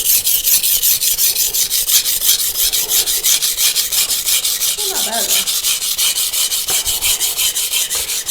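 Steady rhythmic scraping of a knife blade stroked back and forth across a coarse 200–220 grit whetstone, close and even, with a gritty rasping texture and a couple of faint clinks partway through.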